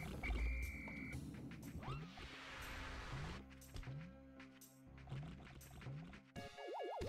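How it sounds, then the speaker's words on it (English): Frog croaking in the video game Pikmin, a series of short repeated croaks amid game music and watery effects, fairly loud and without talk. "Oh no, frog!"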